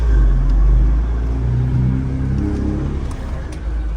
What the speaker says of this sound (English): Hear the turbos?